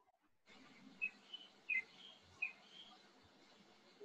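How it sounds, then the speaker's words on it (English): Faint, brief bird chirps ring out a few times over a quiet room hum, sparse and somewhat distant, with no talking. "Is that a bird?"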